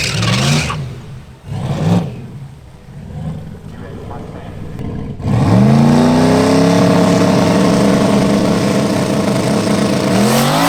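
A car launches on a drag-strip pass, starting with talk and short engine blips before a loud, sustained roar rises steadily in pitch as it accelerates hard, with a voice heard early on.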